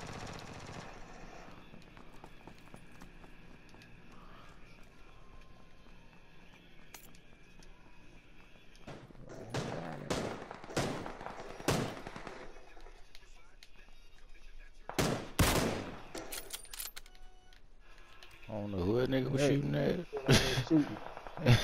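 Gunfire from the battle royale shooter PUBG crackles in loud sharp bursts, first a quick cluster of shots and then another volley a few seconds later, over a low droning background of game ambience and engine-like rumble.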